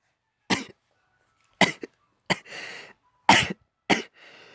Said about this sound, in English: Oh, I need to blow my nose.